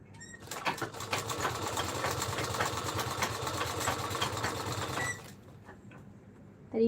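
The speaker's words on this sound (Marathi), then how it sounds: "काठाला मी अशा पद्धतीने शिलाई मारून घेत आहे" A sewing machine runs steadily for about five seconds, stitching down the folded border edge of a sari for a kalash decoration, then stops abruptly, leaving a quiet room with a brief clunk at the end.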